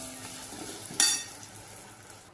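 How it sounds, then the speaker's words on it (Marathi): Red chili powder sautés in a pan for urad dal amti, a faint steady sizzle with one sharp metallic clink of a spoon partway through. "लाल तिखट पण चांगलं परतून घ्यायचं"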